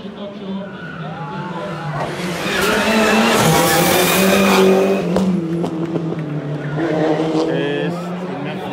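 A Peugeot 206 N5 rally car at a stage rally in Espiel races past at speed, its engine swelling loudly as it nears and then fading, with tire noise and a voice talking over it.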